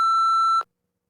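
A single steady electronic beep marks the start of preparation time in a TOEFL speaking test, a clean tone lasting about half a second, loud and alone, then cut off into silence.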